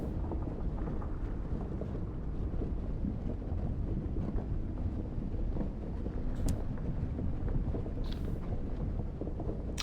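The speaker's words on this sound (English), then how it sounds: "The wind howls, your engine struggles to clear the ice frozen to it." Steady wind roaring in the Sunless Skies game, a continuous broad rush with no breaks and a couple of faint high flickers on top.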